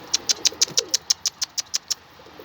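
A feisty, stubborn Mardin pigeon gives about a dozen short, sharp calls in an even, rapid rhythm, close by, before falling quiet near the end.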